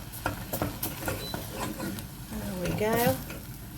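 Spices including cayenne pepper stirred into a sizzling pan, with quick scraping strokes over a steady frying crackle and a brief spoken remark near the end.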